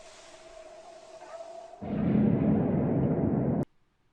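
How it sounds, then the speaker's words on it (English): A soft Minecraft creeper hiss runs for a couple of seconds before a deep, realistic rumbling explosion bursts in and roars briefly, then cuts off abruptly to silence. "actually hearing the hiss in real life and the explosion being a realistic explosion"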